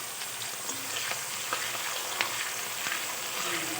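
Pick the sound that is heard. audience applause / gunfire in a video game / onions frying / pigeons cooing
onions frying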